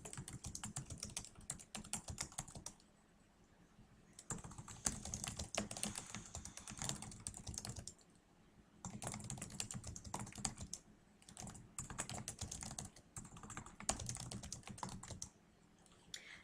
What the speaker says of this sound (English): Here you can start typing.